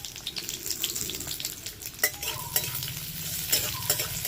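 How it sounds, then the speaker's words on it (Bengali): One whole large onion, chopped, fries in a pan for a spicy tomato chutney: a steady close sizzle with stirring scrapes and a few sharp clicks against the pan, and no talk. "এরপর দিয়ে দিচ্ছি পেঁয়াজ কুচি, একটা গোটা বড় পেঁয়াজ কুচি আছে"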